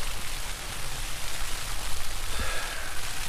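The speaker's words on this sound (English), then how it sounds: "and it's raining." Steady morning rain pattering on a surface at a wild camp in the Brecon Beacons, a constant hiss of drops with no voices.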